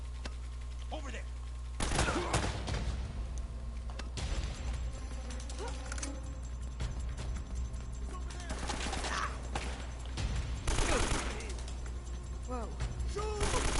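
Bursts of AK rifle fire in the video game Uncharted: Drake's Fortune, loud clustered volleys with mechanical clatter between them, and a voice briefly reacting.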